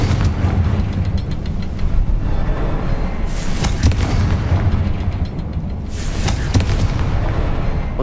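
A Confringo fire spell bursting in Hogwarts Legacy: a steady barrage of loud, booming blasts and crackling impacts that runs through the whole passage without a break, with sharp sizzling bursts rising above the continuous roar.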